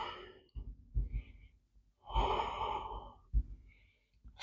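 Deep, slow breaths during a yoga session for back care, with soft airy inhales and a long audible sighing exhale, heard up close in a quiet room.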